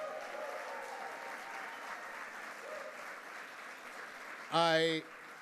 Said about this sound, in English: So can you please just give this staff a huge, huge round of applause?